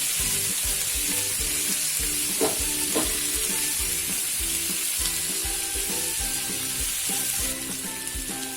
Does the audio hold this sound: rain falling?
no